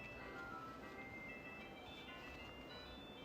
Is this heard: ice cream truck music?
yes